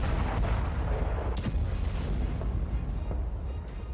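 A car bomb goes off near the Frontier Corps headquarters in Pakistan, heard as a sharp distant boom over low, rumbling background noise, with fainter thuds trailing afterward.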